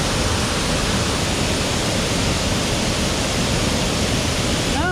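Nabegataki waterfall pours in rain, a loud, dense, unbroken roar of falling water and spray close by, with no voices over it.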